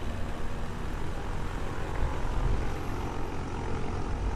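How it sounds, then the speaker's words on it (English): Light aircraft propeller engine in Kerbal Space Program, a steady, loud droning hum that holds constant throughout with no talk over it. "Again, this engine has a nice, unique sound."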